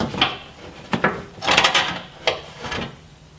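Bolts being installed on JCR Crusader sliders, a series of short scraping and clunking metal-on-wood contacts in a close, irregular rhythm, with no talking.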